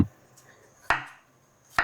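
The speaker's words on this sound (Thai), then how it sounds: "หั่นกระเทียมก่อน" A knife slices garlic cloves into thin rounds on a cutting board in a home kitchen, with two or three crisp, separate chops spaced nearly a second apart, close and clear.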